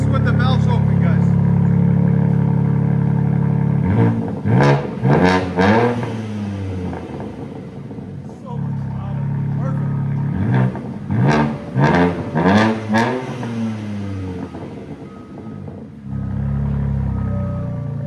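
A 2023 BMW M4 Competition with a 3.0-litre twin-turbo inline-six and X-pipe delete revs hard with the exhaust valves open, two bursts of sharp rising blips and crackles close by, with a steady idle between them and people talking.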